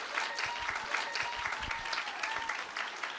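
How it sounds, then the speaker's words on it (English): Audience applause from a seated crowd at a channeling event, a dense, steady patter of many hands clapping throughout, moderately distant and even in level. "Please join me in a round of applause for Darryl Anka."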